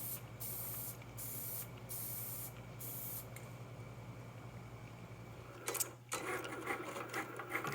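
A Cricut cutting machine runs with a steady low motorized hum and repeated short whirring carriage passes, faint and close, joined near the end by denser rattling activity.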